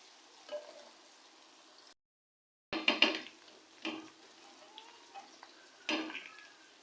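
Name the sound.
chicken frying with softened onions in a pot for degi pulao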